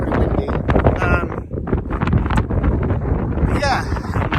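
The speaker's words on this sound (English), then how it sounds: "I don't know if you can hear me very well because it is pretty windy." Strong wind buffets the microphone on a hilltop at East Mill Tor, roaring and gusting loudly and unevenly throughout, with a brief voice-like sound mixed in.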